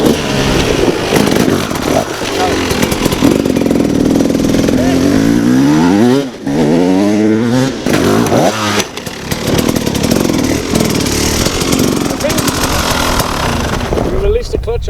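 Hard enduro motorcycle engine during wheelie practice, loud and close, revving up and down in repeated surges with rising and falling pitch and brief throttle dips throughout.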